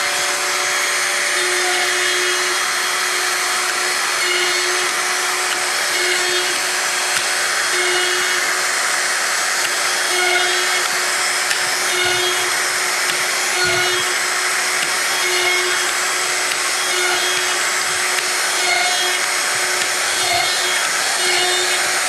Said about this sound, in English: Now I start the router and drill.